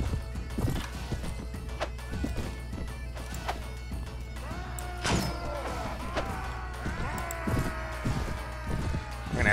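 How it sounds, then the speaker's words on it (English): An injured horse in the video game Mount and Blade Warband, its hooves clip-clopping in a steady gallop with a few neighs and whinnies, loud and close, plus occasional sharp combat crashes. "the horse is definitely hurt. He's not running at full speed."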